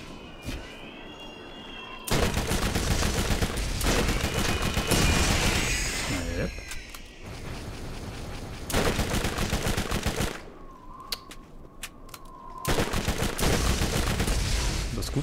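Rapid bursts of SMG gunfire from the Borderlands video game, loud repeated volleys separated by short pauses, with a voice talking over parts of the action.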